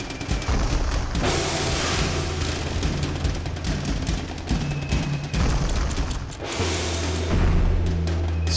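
A nuke going off in the video game Ape Out: loud, sustained booming roar with a deep rumble that swells, dips briefly, then surges again with a low drone near the end.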